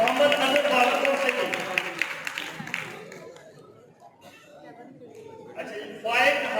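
Audience applause at a Quranic calligraphy exhibition at the Faisalabad art council, a burst of clapping that fades to quiet and then swells again near the end, with voices underneath.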